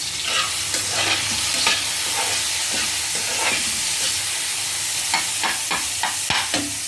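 Tomato coriander chutney cooks in a pan, giving a steady, close sizzle and frying hiss with scraping stirs and small popping bursts throughout, with no talking.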